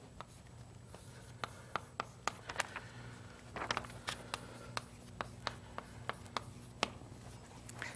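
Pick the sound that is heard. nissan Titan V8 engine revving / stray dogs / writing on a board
writing on a board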